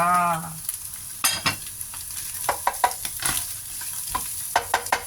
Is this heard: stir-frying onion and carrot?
yes